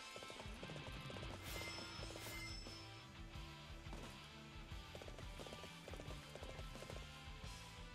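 Horse hooves galloping in the video game Dynasty Warriors 7, a fast repeated clip-clop rhythm set against busy battle music and game sounds, with no talking.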